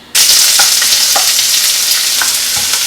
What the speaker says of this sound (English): my oil is heated already in this skillet. I'm going to go ahead and put my onion and my jalapeno in first